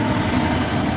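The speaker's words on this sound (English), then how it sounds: "That engine is spooling up." An aircraft engine roars loud and close in a dense, steady blast with a whining drone, filling the whole moment without a break.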